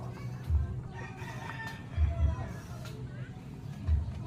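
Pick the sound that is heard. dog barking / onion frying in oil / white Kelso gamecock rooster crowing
white Kelso gamecock rooster crowing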